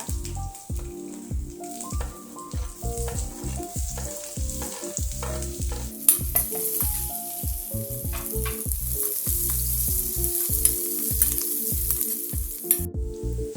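Onion fries in hot oil with mustard seeds in a pan for tomato chutney, giving a steady, close sizzle with occasional stirring clatters and no speech.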